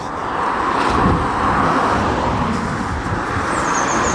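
Road traffic on a narrow country lane near Princetown Road and Burrator Reservoir in Devon, a steady near rumble of passing cars and engines that fills the whole clip with no talk.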